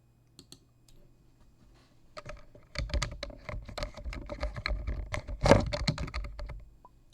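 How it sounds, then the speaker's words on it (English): Loud, rapid clatter of typing on a computer keyboard, starting with a few isolated key clicks and then building into a dense, continuous burst of keystrokes close to the microphone, with no one talking. "Apologies for really loud typing."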